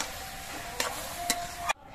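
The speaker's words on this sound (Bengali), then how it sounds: "নুনটা দিয়ে নেড়ে চেড়ে মিশিয়ে নেব।" Salted bottle gourd being stirred in a pan, with soft scraping and a faint sizzle, three short sharp clinks of the spoon against the pan spaced roughly half a second apart, the last cutting off abruptly.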